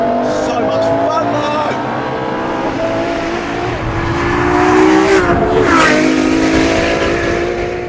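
A Ferrari LaFerrari's 950bhp V12 roars hard under acceleration, loud and close throughout, with tires squealing partway through as the revs climb and fall.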